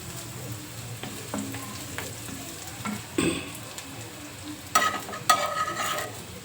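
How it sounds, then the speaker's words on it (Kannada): Spices crackle and sizzle in hot oil, a steady fry with a few sharper pops and clinks of stirring toward the end. "ಅದನ್ನು ನಾನು ಈ ಕಡೆ ಒಗ್ಗರಣೆ ಮಾಡ್ತಾಯಿದ್ದೀನಿ"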